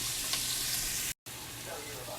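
Vegetables sweating in a pot for pastalaya, giving a steady, close hiss of sizzling with a brief cut of silence partway through.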